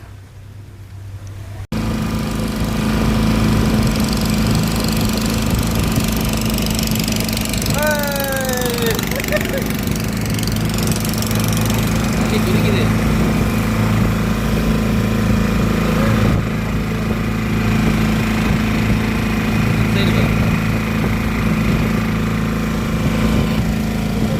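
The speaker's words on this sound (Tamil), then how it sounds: "எதற்கு ஒரு போட்டு வந்துட்டு இருந்துச்சு பாருங்கள். அந்த போட்டை காட்டுறேன்." A motor boat engine drones loudly and steadily on the water in the Muthupettai mangrove forest near Chennai, starting after a brief quiet moment and running without a break to the end.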